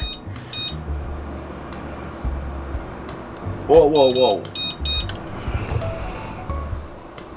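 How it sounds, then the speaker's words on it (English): A kitchen oven timer beeps in short electronic bursts, two near the start and a cluster of beeps later, over room hum while cookie dough bakes; a person exclaims and talks in between. "Hold on, let's set the timer."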